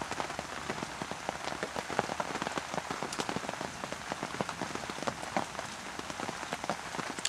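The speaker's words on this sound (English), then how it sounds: "because the rain's that heavy, it's just hitting it, misting through and soaking everything" Heavy rain pounds steadily on a parachute tarp rigged in woodland, a dense, close, continuous patter of drops hitting taut fabric with no pauses throughout.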